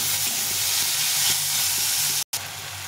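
Chopped tomato and onion frying in a pan with salt and turmeric, a steady close sizzle and hiss with faint stirring scrapes, cut by a brief dropout near the end.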